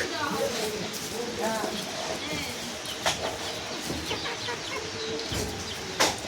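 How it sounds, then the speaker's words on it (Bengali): A large rooster and hens in a rural Bangladeshi village yard give scattered clucks and calls amid steady outdoor background noise, with a person talking nearby. "এই যে কত বড় একখান মোরগ"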